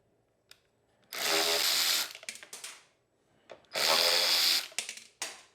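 Screws being worked out of the plastic carburetor on a Briggs and Stratton engine fitted to a Snapper, heard as two loud, rough whirring bursts of about a second each with brief clicks between them, fairly close.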